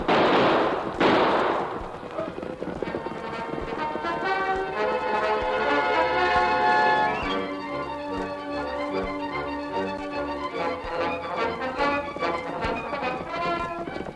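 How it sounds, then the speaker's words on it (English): Gunfire in an old-time western radio drama, with shots fired over heads: a couple of sharp, loud bangs open the scene before a sweeping musical score takes over. "Use your gun, Tonto, but shoot over their heads."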